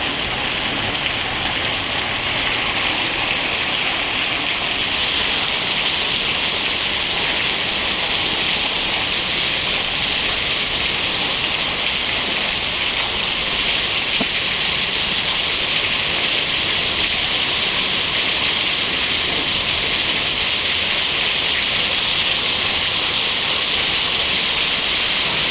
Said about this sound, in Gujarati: બહુ સરસ વરસાદ છે